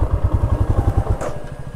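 Royal Enfield Himalayan motorcycle engine idling at close range with a steady low throbbing pulse near a temple during off-road riding, easing off slightly toward the end.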